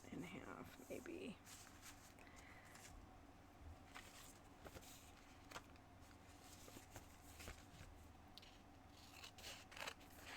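Scissors cut junk mail paper in half for a handmade art journal, repeated quiet snips and paper rustles over several seconds, close but faint, with soft talk in the background.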